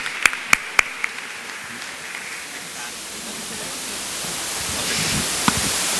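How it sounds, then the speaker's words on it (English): Audience applause for game show contestants, starting with a few sharp separate claps and then swelling into a soft, broad wash of clapping that builds gradually toward the end. "give them a round of applause, please"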